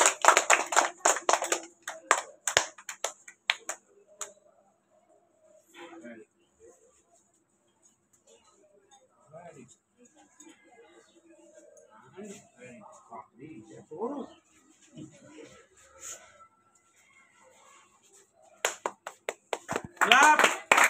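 Students clap their hands at a Teachers' Day school event. A burst of lively clapping opens the clip, quiet talk follows, and a second round of applause comes at the end.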